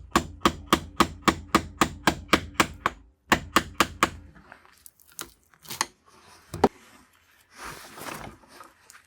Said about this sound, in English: I am going to use a chisel.